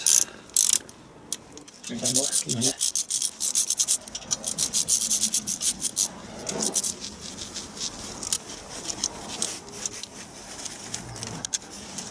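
Rocker cover bolts being nipped up on a Land Rover Defender TD5 engine with a hand ratchet, close rapid clicking bursts of the pawl with metallic rubbing and tool handling between them, no talking.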